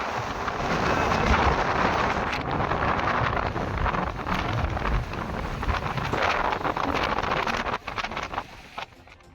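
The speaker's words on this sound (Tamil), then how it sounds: "தனுஷ்கோடி கடலில் திடீரென வீசிய சூறைக்காற்று" A sudden strong gale roars across the sea at Dhanushkodi, a continuous loud, buffeting rush of wind with gusty surges and rumbling microphone buffeting throughout, no voices.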